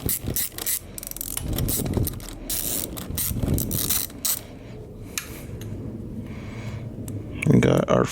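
A ratchet with a 10mm socket and extension working a carburetor screw on a Yamaha Virago XV1000, rapid clicking in bursts close up, with a person speaking in places.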